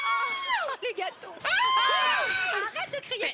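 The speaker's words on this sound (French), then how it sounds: "Arrête de crier pour rien." Shrill, high screaming from people on a French TV game show set, loud and close, in two long bursts broken by short gasps and chatter.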